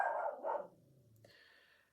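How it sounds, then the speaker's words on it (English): Dogs bark a few times close by in a short, loud burst at the start, then the sound fades to a quieter low tone and high hiss. "dogs barking"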